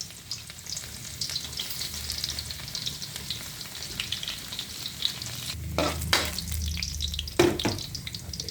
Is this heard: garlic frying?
yes